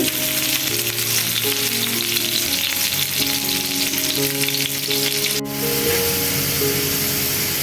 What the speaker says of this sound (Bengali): আর সেগুলো এখন এই তো হালকা বাদামি কালার করে ভেজে নিতেছি